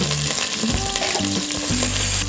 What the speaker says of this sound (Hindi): ऑयल गर्म होते ही हम डालेंगे 3 ग्रीन चिलीज फाइनली चॉप्ड